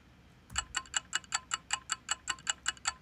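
Wall clock ticking generated by a Minimal Clock VST plugin, sped up: a steady run of about a dozen crisp, evenly spaced ticks after a brief pause, clear and close with no talk.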